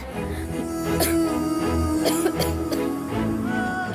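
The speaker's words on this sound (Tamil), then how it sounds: "எதுக்கு இருமுற?" A few short coughs over a steady background hum and low murmuring, close and fairly loud.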